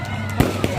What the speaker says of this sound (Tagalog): Ayan, may fireworks pa po.